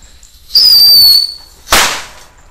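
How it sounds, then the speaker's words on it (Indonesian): A tikus (mouse) firecracker is lit and goes off: a rising fizzing whistle for about a second, then a sharp loud bang with a decaying tail, outdoors. "Untuk pemanasan kali ini kita nyalakan merton tikus tor guys"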